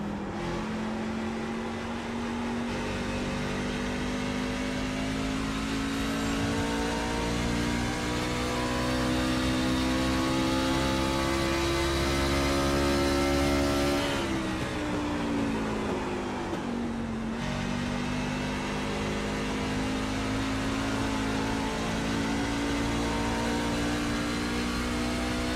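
A racing truck engine in a legacy truck series sim race drones continuously at full throttle, its steady tone shifting briefly as if easing and picking up again, loud and close with no talk.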